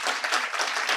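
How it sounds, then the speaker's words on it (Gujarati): An audience at a Gujarati literary program applauds two speakers. The clapping is dense and steady, from a crowd close by, and lasts about a second. "બંને વક્તાઓનું ખૂબ તાળીથી અભિવાદન"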